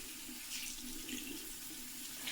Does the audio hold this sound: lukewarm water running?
yes